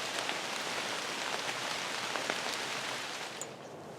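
Steady rain falls outdoors, a dense, even hiss of drops on surfaces with scattered louder patters, continuous and close throughout, with no voices.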